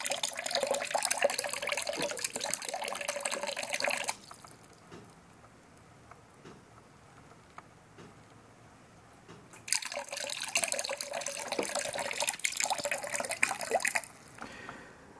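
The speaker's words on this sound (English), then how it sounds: "you can use these pumps to actually feed water to your flower pots and indoor plants" A small pump feeds water to flower pots and indoor plants, producing a faint, steady trickle and splash of running water that stops in the middle and then starts again for several seconds.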